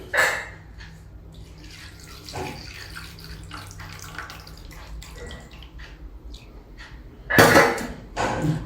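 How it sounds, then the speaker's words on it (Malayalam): Water is poured into a homemade termite remedy mixture in a container, giving a short splash at the start and a louder burst of pouring and sloshing near the end, with quiet clinks and handling in between. "വെള്ളം ഒഴിക്കുക"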